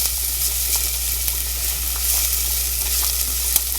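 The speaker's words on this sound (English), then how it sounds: "I love the smell of onions and garlic sauteing together" Onions and garlic sauteing in a pan for Brazilian feijoada, a steady close sizzle and crackle of frying running the whole time with faint stirring clicks, no talking.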